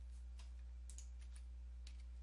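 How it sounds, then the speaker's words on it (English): Faint keystrokes on a computer keyboard while a command is entered during a Windows 10 repair: a few soft, scattered clicks over a steady low hum. "Once you've done that, you want to type in"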